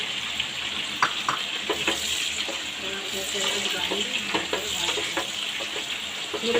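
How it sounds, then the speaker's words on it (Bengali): Chopped onions sizzle steadily in hot oil in a pan while cooking rohu fish kofta curry, a continuous bright frying hiss with occasional clicks and scrapes from stirring, close and fairly loud. "এবারে পেঁয়াজগুলো এর মধ্যে দিয়ে দেবো"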